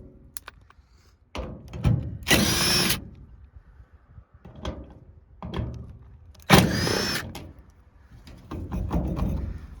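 Power tool with a T30 bit backing out the fuel filler neck bolts on a shop work truck, heard as two loud bursts of whirring, plus softer shorter runs and metallic clunks between them.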